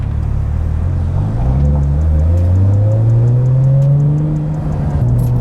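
A Nissan Skyline RB engine runs and revs, its loud, close drone climbing steadily in pitch over several seconds with no voices.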